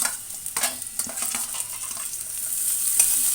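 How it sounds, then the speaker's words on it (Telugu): Onions fry in a pan for an aloo fry, with a steady soft sizzle and repeated scraping stirs of a spoon, close and without talk. "ఇది కొంచెం వేగాలి. ఉల్లిపాయలు లేదంటే పచ్చివాసన వస్తుంది."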